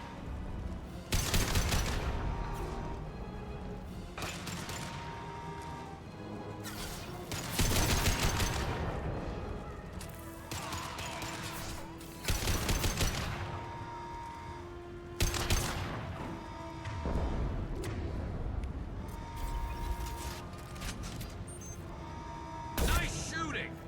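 Bursts of gunfire ring out in the video game Mass Effect 2, with repeated volleys and rapid automatic fire coming in waves over a busy game soundscape, while voices talk over the shooting.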